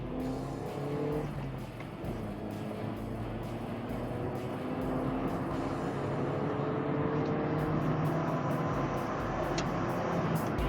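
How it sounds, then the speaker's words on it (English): A late-1990s budget supermini car's engine runs and revs, a steady hum that rises and shifts in pitch under faint road noise. "one of the things that I do like about this car actually is the sound it makes."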